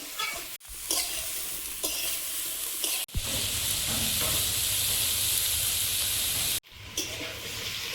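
Snake gourd frying in a pan in a home kitchen, giving a steady, close sizzle broken by brief clatters and scrapes as the pieces are stirred, with short pauses between bursts.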